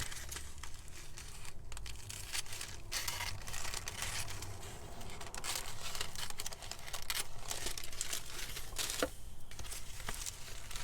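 Crinkly sewing pattern tissue paper being cut, a steady close run of rustling, crackling paper noise with brief snips and crunches throughout, no talking.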